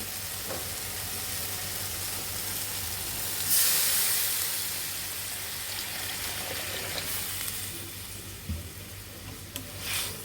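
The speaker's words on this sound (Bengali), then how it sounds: "এখন আমরা পরিমাণ মতো জল দিয়ে দিব" Water goes into a pan of fish kofta curry, raising a steady sizzle and hiss that swells for a moment mid-clip, then settles into a continuous bubbling fry with no talking.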